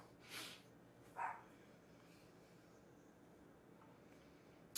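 A puppy gives two brief, faint barks a second apart, then a sharp tiny yip at the end, in an otherwise quiet room.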